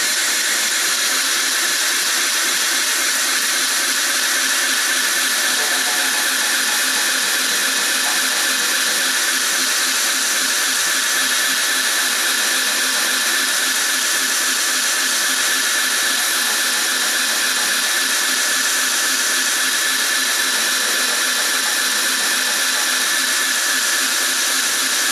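A sanding wheel grinds steadily on knife handle scales during cleanup passes, a constant high, hissing whir that holds at an even, loud level for the whole stretch with no talk.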